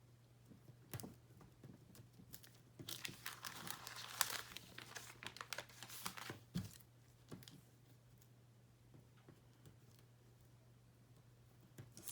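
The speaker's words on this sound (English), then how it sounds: "So I'm folding it slightly as I go along." A paper slipper template is trimmed and folded by hand, giving close, faint crinkling and crumpling with scattered sharp rustles and snips, busiest in the middle and thinning out toward the end.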